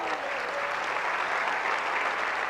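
A church congregation claps together during a Spanish-language sermon, a continuous, even burst of applause from the whole room lasting a couple of seconds.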